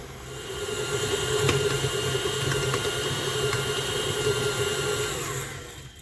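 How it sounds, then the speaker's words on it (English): An electric mixer kneads homemade wheat bread dough, giving a steady, even motor drone with faint clicks on top and no pause from start to finish. "we want to let this dough mix now a little bit longer"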